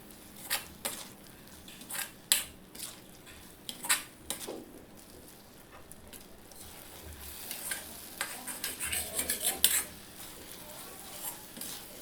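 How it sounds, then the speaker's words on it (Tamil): A ground dry ginger masala paste is sautéed in a kadai with a spoon, producing irregular metallic scrapes and clinks over a soft, low sizzle, fairly quiet and close. "மிதமான தீயில வச்சு நல்லா வதக்கிக்கிட்டே இருங்க"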